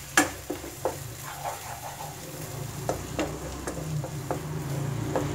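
Matar paneer masala being sautéed in oil in a pan, a steady sizzle under repeated spoon strokes and taps against the metal, fairly close and continuing throughout.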